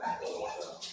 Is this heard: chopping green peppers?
no